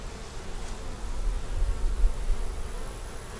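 Honey bees hum in a dense, steady buzz around hive brood frames, a close, continuous drone with no voices.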